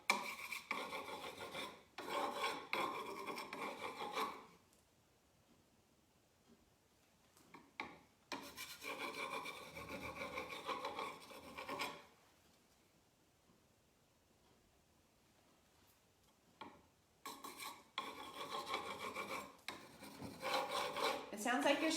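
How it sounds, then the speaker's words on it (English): Scraping paint off a stenciled vanity with the beveled side of a tool: rasping bursts of scratching in three long passes, separated by quiet pauses, close and fairly loud. "Sounds like you're scraping your paint off"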